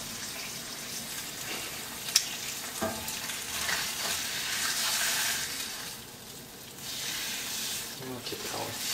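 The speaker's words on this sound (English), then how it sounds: "Sizzling beautifully." Steady, crackling sizzle of peppers frying in hot olive oil in a pan, fairly close, with occasional clinks and stirring sounds and a brief sharp tap.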